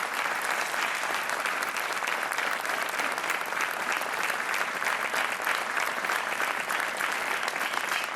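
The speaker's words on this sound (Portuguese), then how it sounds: "Um aplauso para a Inês, que dá mais um joker ao Rui." Studio audience on the RTP 1 game show Joker applauds contestant Inês, a continuous, even roar of many hands clapping at full strength throughout.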